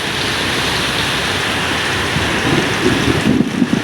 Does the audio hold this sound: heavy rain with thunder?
yes